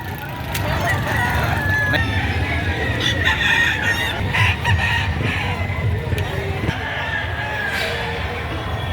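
A noisy crowd of chickens and roosters at a livestock market clucks and crows continuously, with several cock-a-doodle-doos rising over a busy background of murmuring voices.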